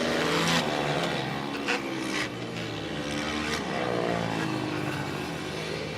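Dirt bikes and quads racing on a flat track TT course, including a Honda two-stroke, with a continuous loud roar of engines revving and droning as the pack passes close by.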